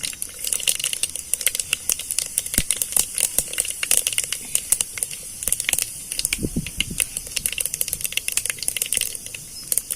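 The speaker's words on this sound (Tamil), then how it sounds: "கடுகு பொரியட்டும்" Mustard seeds crackle and splutter in hot oil for a ridge gourd poriyal, a dense, continuous run of sharp pops and sizzles throughout, close and fairly loud, with no talking.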